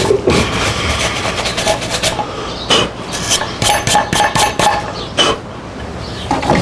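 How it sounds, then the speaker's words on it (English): A stiff bristle brush scrubs the charred surface of burned shou-sugi-ban wood in close, rough, rasping strokes that come in uneven bursts, loud and with no talking. "I can use a real stiff bristle brush."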